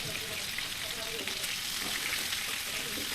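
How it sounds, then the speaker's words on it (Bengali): BBQ chicken frying slowly in oil over low heat gives a dense, continuous sizzle and crackle, close and fairly loud, steady for the whole stretch without any voices. "আঁচ কমিয়ে রেখে আস্তে আস্তে ভাজতে হবে"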